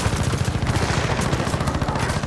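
Rapid turret gunfire in Gears of War 4, a loud, continuous stream of closely spaced shots with dense low-end thumps running steadily without pause.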